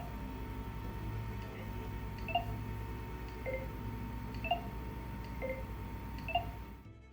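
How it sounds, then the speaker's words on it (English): Short electronic beeps from the iOS 15 Phone app signaling mute and unmute, a few soft two-note chimes spaced about a second apart over a faint steady hum, with no one speaking. "The phone app has one really cool feature, a new tone when muting and unmuting."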